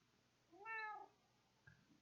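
Jekyll, a two-year-old pet cat, gives a single short, clear meow close by, followed by a faint brief rustle in an otherwise quiet room.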